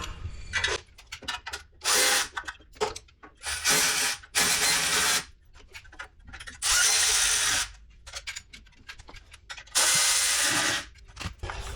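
Ratchet tightening the exhaust heat shield bolts on a motorcycle's rear cylinder, fitted with a Redline 'Shorty' 2-1 exhaust: repeated bursts of close, loud clicking, each lasting one to two seconds, separated by short pauses. No one speaks.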